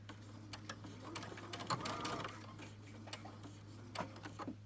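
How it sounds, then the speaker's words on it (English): A serger sewing machine runs a few short locking stitches at the end of a hem seam on a pair of shorts, a steady close mechanical whirring with light rapid ticking over a constant low hum. "So I always like to do a reverse stitch, so do a few locking stitches at the end of the seam."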